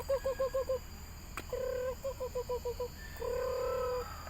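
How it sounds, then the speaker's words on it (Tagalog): A chicken gives repeated rapid clucking bursts alternating with longer drawn-out calls, fairly close against a steady background hum. "nag-ingay din yung manok, no?"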